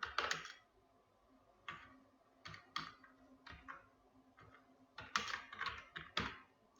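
Irregular keystrokes on a computer keyboard, close and clear, with bursts of rapid clicks separated by short pauses and no one talking.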